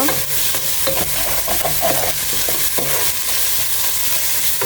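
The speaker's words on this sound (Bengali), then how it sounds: "আমি মশলাগুলো ভালোভাবে কষে নিচ্ছি" Spices with garam masala stirred and sautéed in mustard oil for a fish khichuri give a steady, close sizzle with repeated scraping and clattering strokes of a spoon in the pan, with no talking.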